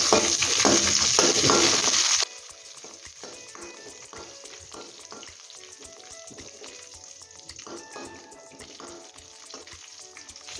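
Cashews fry in ghee with a loud, bright sizzle for the first couple of seconds, then settle to a quieter crackle broken by repeated scrapes and light clinks of a spoon stirring the pan.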